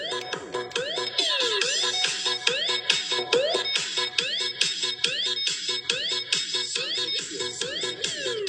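Bright, high-pitched electronic music with fast chirping synth tones and a steady beat, played loud through a speaker tweeter with crisp treble.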